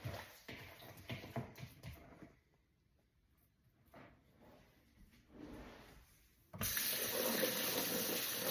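Tap water running into a kitchen sink while meat is rinsed for a three-meat rolled meatloaf, close splashing that fades and returns, then a louder steady gush at the end.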